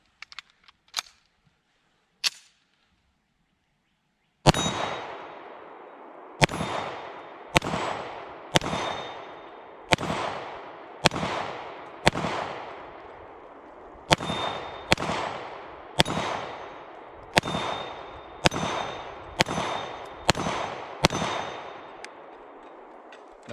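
A Browning Hi-Power 9mm pistol fires about fourteen rounds at a big steel spinner target at a shooting range, the sharp shots coming in a steady, unhurried cadence, each followed by a bright metallic ring from the struck steel, after a few faint clicks.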